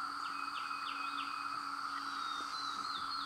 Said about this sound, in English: Can still hear the cicadas.